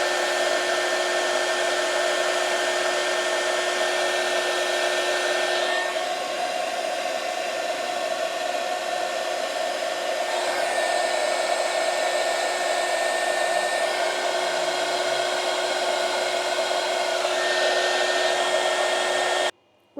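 A heat gun runs steadily for about twenty seconds, shrinking heat shrink tubing over a cable during solar battery isolator wiring, a loud close whining blow that cuts off abruptly at the end.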